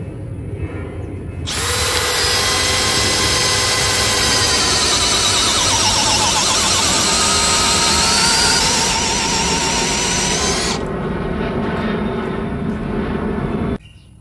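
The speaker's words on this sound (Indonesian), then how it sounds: "Untuk mata bornya saya menggunakan Auger 25 mm. Medianya masih sama kayu mahoni." A cordless drill with a 25 mm auger bit whines steadily at high speed for about nine seconds, boring into mahogany with a rising, straining pitch, then spins down.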